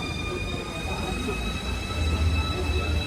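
A high-speed bullet train near Freiburg travels at roughly 300 to 370 km/h, heard from inside as a steady, loud rolling rumble with faint tonal whines throughout.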